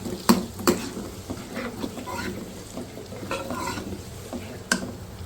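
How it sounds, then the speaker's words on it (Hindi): Potatoes frying in a pan for aloo gobi sabzi, stirred with a spoon: steady sizzling close by, with sharp scrapes and clinks of the spoon against the pan at intervals, no talk. "अब हम डालेंगे आलू को भी 1 से 2 मिनट जो है हम फ्राई करेंगे"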